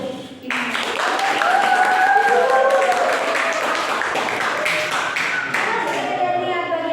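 Classroom applause for a student group after their presentation: a burst of clapping starts sharply and holds steady for several seconds, with excited voices and chatter rising over it near the end.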